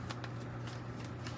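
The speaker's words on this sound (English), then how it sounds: "To clarify, give it a little shuffle. A little shuffle." A tarot card deck being shuffled gives a quick series of soft, close riffling flutters over a steady low hum.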